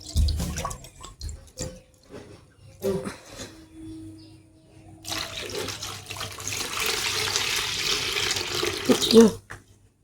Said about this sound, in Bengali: তো চলো চালটা ভালো করে ধুয়ে পরিষ্কার করে নিই